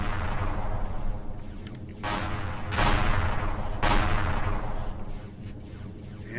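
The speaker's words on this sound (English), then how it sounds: "plasmas seem to be shooting down there" Plasma weapons firing in the space survival game Empyrion Galactic Survival: several loud, roaring blasts with long rumbling tails over a steady dense background drone, the bursts overlapping and fading unevenly.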